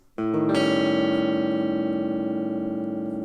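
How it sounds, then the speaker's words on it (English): A single dissonant flat-five guitar chord is strummed and left to ring, sustaining clearly and slowly decaying over a few seconds. "That's how you play the flat 5 chord"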